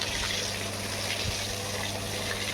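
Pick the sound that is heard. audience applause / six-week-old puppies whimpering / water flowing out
water flowing out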